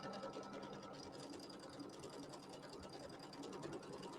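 Embroidery machine sewing a placement line for batting on a quilt block, a steady rapid needle chatter, quiet and continuous with no talking.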